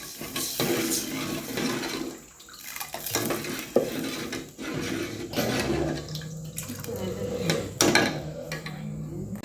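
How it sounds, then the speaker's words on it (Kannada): Water being added to a pan while making upma, heard as continuous close clattering of a metal pan and utensil with a rushing, splashing pour underneath and a few sharper knocks, no voices. "ಈಗ ಇದಕ್ಕೆ ನೀರು ಹಾಕೊಂಡ್ಬಿಡ್ತೀನಿ"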